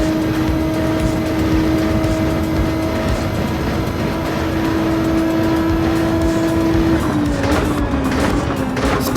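Race car engines roar through a crowded pack during a Gran Turismo 7 Le Mans race, a loud steady drone with sustained whining tones that shift pitch near the end as cars jostle.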